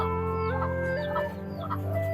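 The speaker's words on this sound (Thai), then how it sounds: "อันนี้ไก่ไข่" Laying hens clucking steadily in a poultry flock, with overlapping calls at close range over a constant low background hum.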